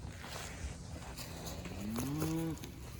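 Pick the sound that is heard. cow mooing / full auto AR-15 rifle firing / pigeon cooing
cow mooing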